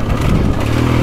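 KTM 450SXF Factory Edition motocross bike engine on a slippery hard-pack GP track, a steady loud mid-pitched drone with rising revs toward the end, close and continuous with no talk.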